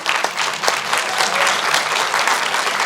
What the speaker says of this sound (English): a round of applause for the people who supported you